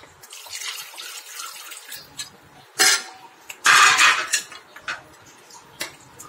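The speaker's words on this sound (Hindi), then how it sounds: "मैं इसमें थोड़ा सा पानी और डालूंगा।" Water is poured into a curry gravy cooking in a pan, heard as splashy bursts and pouring gushes amid clinks of utensils against the pan, with quiet gaps between.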